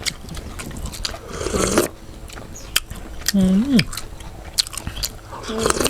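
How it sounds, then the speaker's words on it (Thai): Crunchy yum-style salad of crisp pork skin is chewed close to the microphone in a few bursts of crackling bites, with a short hum of voice in between. "กินหนังยำกรุบกรุบไปน้องครับ"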